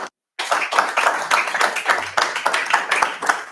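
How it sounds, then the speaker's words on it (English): Audience applause at a youth summit, dense steady clapping from many hands that starts after a brief silence and continues throughout, fairly close and loud. "Can we give a round of applause to Mr."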